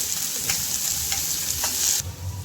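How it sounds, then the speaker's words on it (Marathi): Finely chopped onion frying with green chillies and curry leaves for kulith pithale, a close, dense sizzle with a few quick stirring scrapes, steady throughout with no talk. "कांदा छान आपल्याला गुलाबी करून घ्यायचा आहे"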